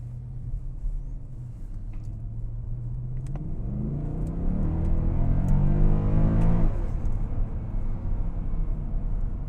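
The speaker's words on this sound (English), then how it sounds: "you can have a general idea of what kind of acceleration this car puts together" A 2010 Mercedes-Benz E63 AMG accelerates on the road, its engine note climbing through a rising rev sweep that swells louder midway and then eases back to a steady rumble.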